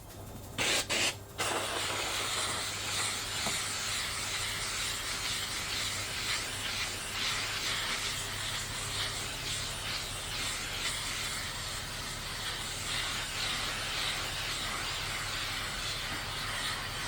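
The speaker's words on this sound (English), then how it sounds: "The steam is coming out." A steady, loud hiss of escaping steam from a Kärcher SC2 steam cleaner on carpet runs unbroken, with a low mechanical hum beneath it and a couple of short bursts at the start.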